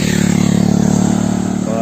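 A motorcycle engine running steady and loud right up close, its low droning hum holding for nearly two seconds and easing off slightly near the end, with no other sounds over it.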